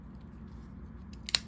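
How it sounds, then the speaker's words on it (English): Small scissors on a Victorinox Swiss Army knife snip once with a crisp, close metallic click near the end, over a low steady hum. "got the scissors working"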